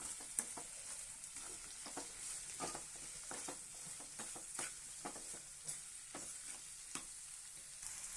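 Bitter gourd frying in a pan with rock salt gives a quiet, steady hiss, dotted with soft stirring clicks and scrapes throughout.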